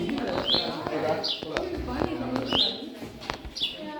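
Birds chirp outside on a farm, several short bright calls repeating about once a second. People talk nearby over the calls.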